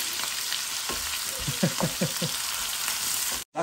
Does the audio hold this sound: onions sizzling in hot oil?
yes